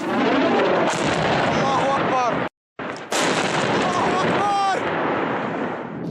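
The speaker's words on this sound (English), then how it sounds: "In Daraya, south of Damascus, a barrel fell right in front of activists' cameras." A barrel bomb explodes in Daraya, south of Damascus, Syria, a loud, sustained roaring blast that cuts out briefly and then resumes, with shouting voices rising over the rumble.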